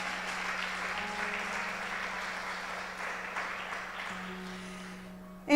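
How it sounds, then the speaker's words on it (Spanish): A church congregation claps during a Sunday morning service, with steady, moderately loud applause running throughout alongside a sustained low tone. It thins slightly near the end. "Dale un fuerte aplauso al Señor en esta mañana"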